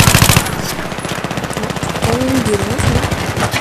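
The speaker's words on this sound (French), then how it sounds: "elle fait toujours des tirs en pleine tête de très loin, c'est incroyable" Rapid gunfire in Battlefield 3 rattles in quick repeated bursts, loud and close, while a player talks over part of it.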